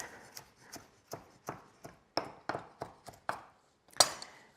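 Knife roughly chopping a handful of mint and Italian parsley on a board, a dozen close, crisp taps at an uneven rhythm, with no talk.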